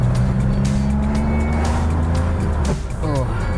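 A 1977 Porsche 911S with worn synchros drones loudly and steadily from inside the car while driving, its engine note dipping and shifting as a gear change comes near the end, with a voice faintly present under the noise.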